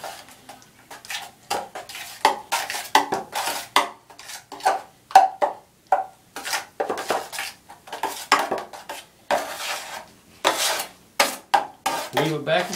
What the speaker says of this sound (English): Weave it back and forth with the edges of the knife until it's nice and smooth.